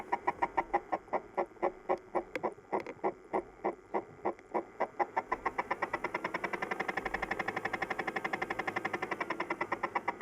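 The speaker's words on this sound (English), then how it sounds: "So you can hear the motor quite easily." A small cassette player motor picked up underwater by a hydrophone, with a steady train of rapid rhythmic ticks and pulses that start choppy, then settle into an even, fast mechanical chatter with a faint whirring tone.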